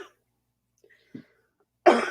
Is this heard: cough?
yes